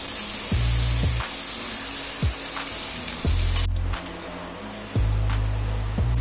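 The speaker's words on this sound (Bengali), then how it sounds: "এটা কষানো হয়ে গেছে, এবার আমি এর মধ্যে জল অ্যাড করছি।" Water goes into a hot pan of sautéed potato and kohlrabi curry, giving a loud, steady hiss and sizzle with rhythmic low splashy pulses and a sudden shift in the spray partway through.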